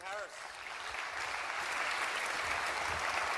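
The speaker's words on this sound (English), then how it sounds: "Round of applause for Stephen Harris." Audience applause at an EduTECH education conference talk, a continuous dense clapping that swells slightly and holds steady, somewhat distant and moderately quiet, with faint voices beneath.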